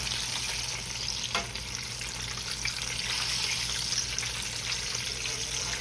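Fried pies crackle in a pan of hot oil, a constant soft sizzle with a single sharp clink of a fork partway through as one is flipped.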